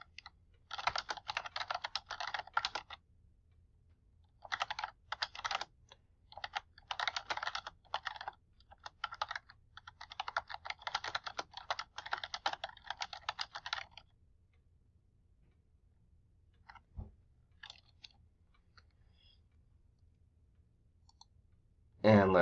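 Typing on a computer keyboard in bursts of rapid clicking keystrokes, separated by short pauses and thinning to a few scattered taps near the end, close and distinct.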